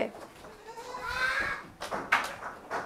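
Goats on a breeding farm give a drawn-out bleat followed by shorter calls, heard at moderate distance with people talking faintly in the background.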